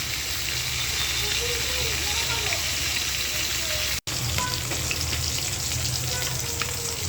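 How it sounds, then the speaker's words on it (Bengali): Fish frying in a pan in a home kitchen, with a dense, continuous loud sizzle and crackle of hot oil and scattered small pops throughout, broken only by a momentary dropout. "তোমার মাছ ভাজিটা হয়ে গেছে"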